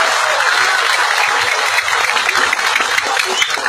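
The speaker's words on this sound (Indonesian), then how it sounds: "Tepuk tangan." Steady applause from an audience at a mass-organisation rally oration in Bandung, dense and continuous clapping at close range for the whole stretch with no talk over it.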